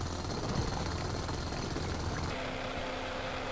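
A jackhammer in Space Engineers drills in a fast, gritty rattle for about two seconds, then cuts off, leaving a steadier low mechanical hum at moderate volume.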